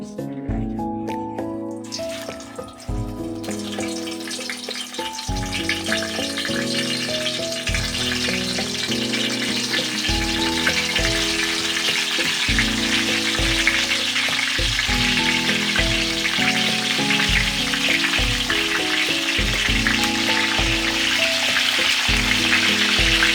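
Spice-stuffed eggplants tied with thread frying in ghee in a frying pan, a steady loud sizzle throughout, with tonal background music layered over the crackle.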